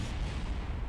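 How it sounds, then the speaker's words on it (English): Explosions from rockets in the Kerbal Space Program video game, a brief rolling low boom and rumble that is faint and stays dense throughout the moment. "wow, that's a lot of explosions"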